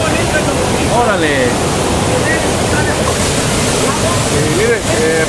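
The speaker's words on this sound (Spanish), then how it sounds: "Esta cascada, en la cascadita, que simula un salto también" A small waterfall cascade tumbles into a natural bathing spot, making a steady, loud rushing roar from start to end. Faint voices or calls rise briefly above the water noise.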